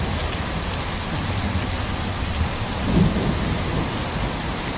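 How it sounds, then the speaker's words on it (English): Heavy rain pours in a dense, steady hiss, with a low rumble of thunder swelling briefly in the middle. "It's raining heavily."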